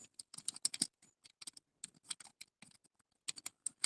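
Typing on a computer keyboard, close and crisp, with quick bursts of keystrokes separated by short pauses.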